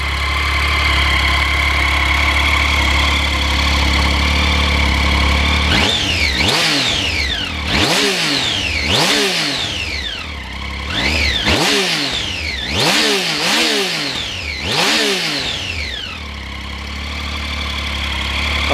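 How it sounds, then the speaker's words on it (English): A Triumph Street Triple three-cylinder motorcycle on its standard exhaust idles steadily, then is revved in a series of sharp throttle blips that rise and fall quickly, loud and close with no talking. "I love that familiar 3-cylinder whistle that you get from the engine, and the street triples are well known for having a really nice standard exhaust tone."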